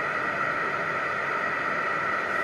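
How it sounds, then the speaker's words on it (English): A fan heater runs steadily in a cold room, giving an even, unbroken airy hiss with a faint hum, moderately close, with no voices. "if you can hear a noise in the background, it's a fan heater"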